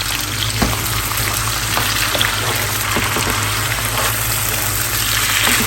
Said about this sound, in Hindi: इसको 1-2 मिनट भूनेंगे